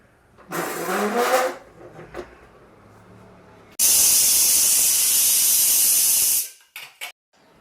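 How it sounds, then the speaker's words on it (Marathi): A pressure cooker of spiced brinjal rice on medium heat releases steam in a loud, sustained hissing whistle lasting a few seconds, preceded by a shorter hiss and some kitchen clatter. "कुकरचं झाकण लावल्यानंतर मध्यम आचेवर कुकरची एक शिट्टी काढून घेऊ"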